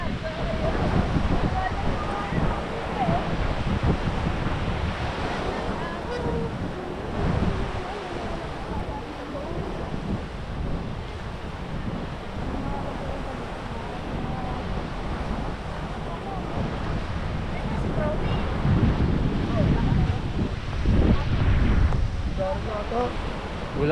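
Waves wash onto a sandy beach in continuous surging rushes, mixed with wind buffeting the microphone, while people talk quietly during the walk along the shore.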